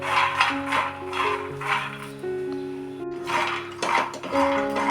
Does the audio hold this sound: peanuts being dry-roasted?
yes